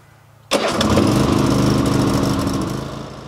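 A choked Cub Cadet ZTS2 zero-turn mower engine cranks on the key and catches suddenly, then settles into a loud, steady running roar that eases slightly toward the end.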